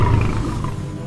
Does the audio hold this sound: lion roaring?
yes